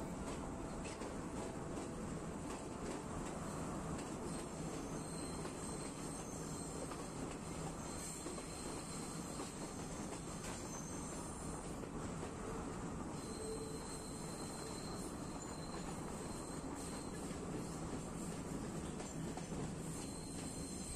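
Udarata Menike passenger train running on the railway near Haputale in Sri Lanka's hill country, a steady loud rolling rumble with wheel squeal and rattling carriages throughout, close by and continuous.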